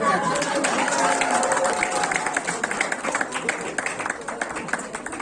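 A church congregation at an advance Christmas gathering in Kathmandu claps, a crowd's dense applause that thins into scattered claps and murmuring chatter, with voices talking over it.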